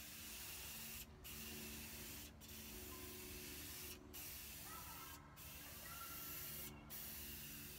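Spray gun laying finish on a guitar body, a steady close hiss broken by several short gaps as the gun stops and restarts, over a low background rumble.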